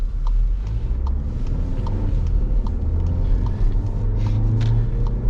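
A 2019 Volkswagen Tiguan SEL R-Line 4MOTION all-wheel-drive SUV driving on a road: a steady low rumble of engine and road noise heard from inside the cabin, with faint ticks and rattles.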